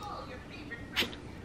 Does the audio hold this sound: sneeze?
yes